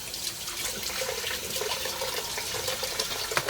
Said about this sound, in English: Rinse off the knife again.